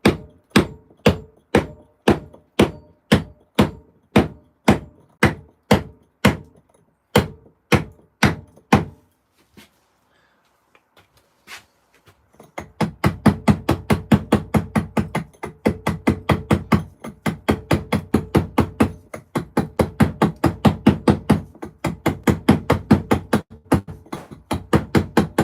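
Steel chisel struck against stone, hammered with a piece of stone found in the yard: a steady run of sharp, evenly spaced knocks, then a short pause and a faster, denser burst of blows, all close and loud.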